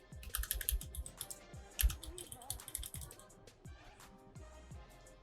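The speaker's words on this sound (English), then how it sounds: "We're going to type out" Rapid, irregular clatter of keystrokes on a computer keyboard, close and fairly loud, with clustered bursts of clicks and a few heavier key hits, no talking.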